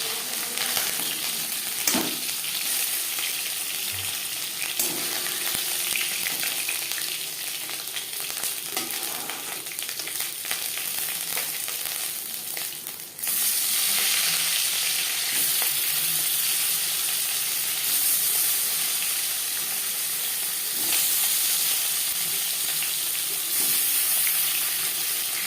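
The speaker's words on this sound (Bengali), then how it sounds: "পরের মাছ ও মাথা একইভাবে ভেজে নেব।" Hilsa fish and a fish head fry in hot oil with a continuous hiss and sizzle, occasionally punctuated by a light clatter. Partway through, the sizzle swells suddenly louder and brighter as fresh pieces go in. No talking.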